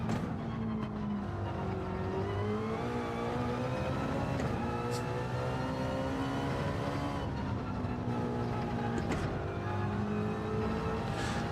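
A race car engine in a sim racing video game time trial drones steadily throughout, its pitch rising and falling with shifts and throttle changes, loud and up close with no talk.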